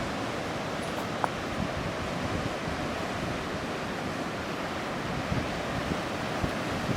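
Strong ocean waves and gusting wind on Ishigaki Island, Okinawa, on an overcast December day, a steady broad roar of surf and wind noise with no voices.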